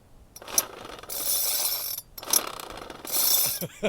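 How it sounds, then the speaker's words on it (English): A small hedge trimmer engine with a loose connecting rod is turned over in three separate bursts, each a loud, close metallic rattling and clattering that stops in between. "You can hear that the connecting rod's flapping around."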